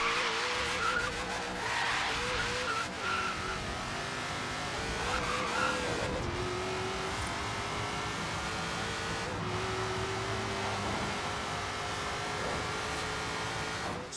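Video-game engine of an 800 HP Ford Falcon in Forza Horizon 3, a steady loud roar held for the whole stretch with shifting tone, a brief skid-like squeal at moments, and no talk.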